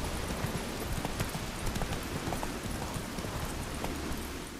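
Roach, a horse in the video game The Witcher 3, gallops with rapid, even hoofbeats that stay steady and moderately loud over a dense background wash.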